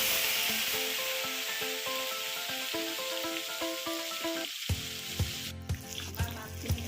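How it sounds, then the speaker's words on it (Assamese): Fish frying in hot oil in a wok, a soft steady sizzle under plinking melodic background music, then louder scraping and stirring knocks near the end. "আমাৰ তেল গৰম হৈ গৈছে। আমি এতিয়া মাছখিনি গোটেইখিনি মাছ ভাজি ল'ম।"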